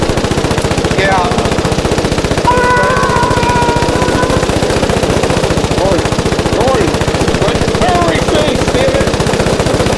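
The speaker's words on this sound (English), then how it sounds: "I can barely hear myself over the gunfire." Rapid, continuous automatic gunfire from the video game Foxhole rattles loudly throughout, with occasional whistling tones and faint voices mixed into the dense barrage.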